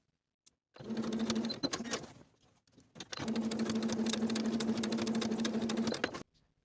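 A sewing machine basting a pocket onto a denim skirt runs in two steady, humming bursts, close and even, with a short pause between them and no talking.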